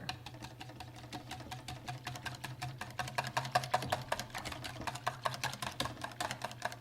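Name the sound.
whisking bread pudding mixture with cream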